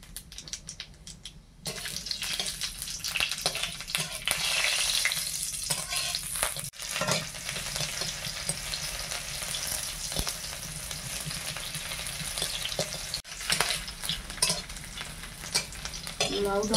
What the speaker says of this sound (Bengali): দিদিমণি এবার তরকারিটা সাঁতলাবে।